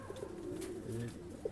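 A pair of high-flying pigeons coo softly in a breeding loft beside their eggs, one low rolling call after another in a brief, close, quiet burst.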